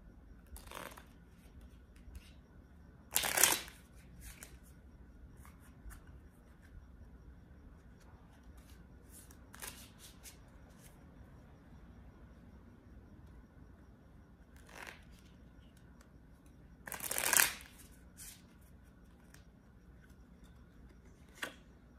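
A deck of playing cards is shuffled at home during a workout, with two short, crisp riffling bursts several seconds apart and fainter card flicks and taps in between, fairly quiet overall.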